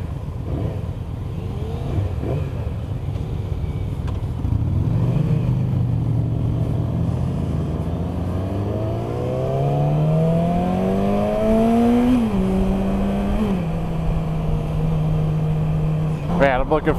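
A Yamaha R6 motorcycle engine on a ride pulls up through the revs in rising and falling sweeps with gear changes, loud and continuous under wind noise.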